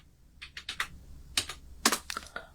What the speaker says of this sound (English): I'm going to type in the word masks